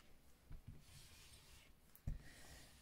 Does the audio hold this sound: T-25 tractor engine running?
no